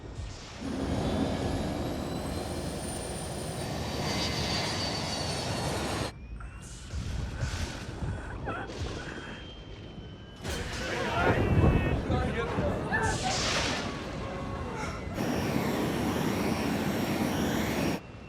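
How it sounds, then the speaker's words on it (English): Steady airplane engine drone of a hijacked plane in flight, loud and continuous throughout, with short breaks and a voice speaking over parts of it. "Slade, you gotta turn the control column to the right until the plane levels out"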